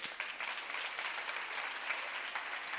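A crowd at a corporate women's event claps steadily, even applause heard from a little distance, moderately quiet and unbroken throughout.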